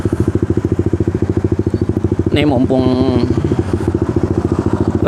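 A Suzuki Satria Fi150 fitted with a racing-spec slim silencer exhaust idles with a rapid, throbbing pulse, then is revved hard in a short loud burst before settling back to idle, close up, with someone speaking briefly.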